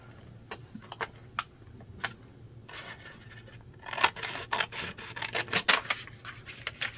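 Scissors cutting paper for a steampunk craft embellishment, with sparse crisp snips followed by a quicker run of close, quiet cuts and light paper rustling.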